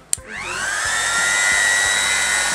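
A construction heat gun clicks on and spins up, its fan and airflow rising into a steady, loud whooshing hum that holds to the end, with no talking.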